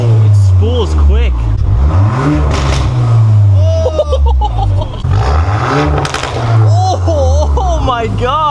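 Close up and loud, the engine of a modified Volkswagen MK8 Golf R revs repeatedly in rising and falling surges, its turbo spooling quickly, while excited voices talk over it.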